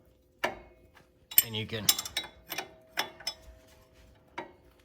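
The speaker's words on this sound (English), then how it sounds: "Clamp your vice grips on the stud, and then you take your wrench" A wrench turns a nut on a stud held by vice grips on a 2005 Silverado, giving sparse close metallic clicks and clanks with a brief spoken phrase in between.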